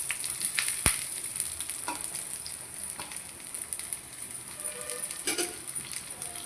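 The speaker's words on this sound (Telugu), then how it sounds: "ఆయిల్ వేడయ్యాక కొన్ని ఉల్లిగడ్డల్ని ఫ్రై చేసుకోవాలి కొంచెం లైట్గా." Onions frying lightly in hot oil for a fish curry, a steady soft sizzle with a few louder crackles and spatters, close by and with no talking.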